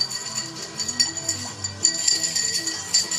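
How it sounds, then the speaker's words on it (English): A bar spoon stirs ice in a mixing glass for a classic martini, giving a run of soft, repeated clinks and jingles that carries on throughout at moderate loudness. "So what we're going to do is we're going to stir it."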